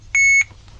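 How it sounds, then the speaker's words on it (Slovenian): A sailboat's navigation system sounds a single short, piercing electronic beep warning of lost GPS signal, loud and clear over faint low background hum. "Nič hudega ni, samo alarm, da nima GPS-a."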